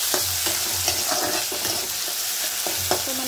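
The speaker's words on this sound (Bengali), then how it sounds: "টমেটো আর কাঁচা লঙ্কাটা রেখেছিলাম, তো অ্যাড করে দিলাম, দিয়ে সামান্য একটু ভাজা ভাজা করবো।" Tomatoes and green chillies fry in a pan while being stirred. A steady close sizzle runs throughout, broken by repeated light scraping knocks of the spoon.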